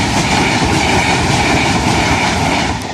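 A Lumo passenger train rushes past close by at Holme level crossing, a loud, steady roar of wheels and rail noise that holds for the whole stretch and eases slightly at the very end.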